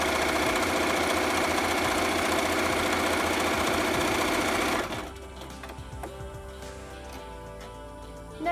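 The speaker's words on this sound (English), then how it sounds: "sew with a 1/4 inch seam allowance" A sewing machine stitches squares of mask fabric with a 1/4 inch seam, running loud and steady for about five seconds before stopping abruptly, leaving a quiet room with faint clicks.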